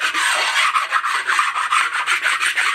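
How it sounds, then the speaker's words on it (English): A sharpening stone rubbed back and forth over the top of a Willys L-head engine head, a close, loud rhythmic rasping in quick repeated strokes, alone. "We're just going to stone the top of this."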